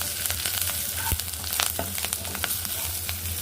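Onions and moringa leaves fry in a pan with a bright, crackling sizzle and frequent small pops and stirring scrapes throughout, close and steady with no voices.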